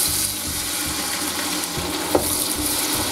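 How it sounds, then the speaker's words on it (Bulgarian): Chopped onions fry in oil in a pot, giving a steady, close sizzle with occasional stirring scrapes and no voices. "И запържаме лука"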